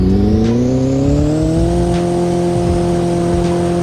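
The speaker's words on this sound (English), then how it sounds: "okay, so yeah, it is a hybrid, but it's very loud." A loud hybrid car engine runs steadily, its droning hum slowly climbing in pitch as it revs under constant road-like noise, close and continuous throughout.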